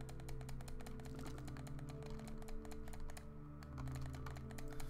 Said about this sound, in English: How much of the clicking sound do you think is coming up on the mic?